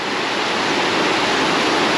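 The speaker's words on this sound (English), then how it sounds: "And you can hear the hissing sound from the waterfall." Cam Ly waterfall in Dalat, Vietnam pours with a steady, loud broadband hiss, a dense continuous rush of falling water that holds level and unbroken for the whole stretch, with no voices over it.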